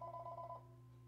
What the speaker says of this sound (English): Oh, phone's sorry, ringing.